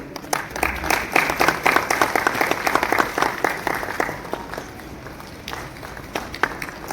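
Audience applause at a formal ceremony as a bouquet is presented to the chief guest, a social welfare director: dense, steady clapping from a crowd that swells and then thins slightly, with no voices over it.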